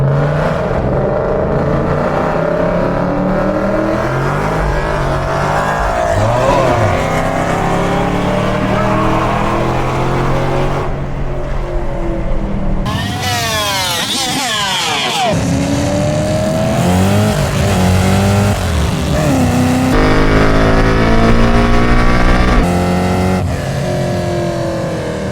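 A 650hp Chevrolet Camaro ZL1 roars loudly and steadily through a race, its engine revving in sweeping pitch climbs, with brief surges and drops as it shifts and accelerates, close and continuous throughout.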